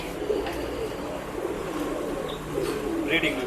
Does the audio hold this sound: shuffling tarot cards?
no